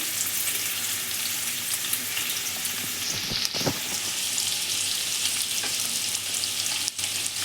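Onion frying in hot ghee and oil for egg rice gives a loud, continuous, close sizzle with a brief stirring scrape partway through.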